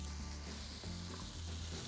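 Steady, bright sizzling of food frying in a hot pan, with faint stirring movements, continuous and close with no talking.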